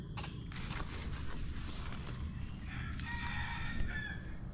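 A rooster crows at a distance over steady broadband outdoor background noise, a single drawn-out call rising late in the moment, with no talk.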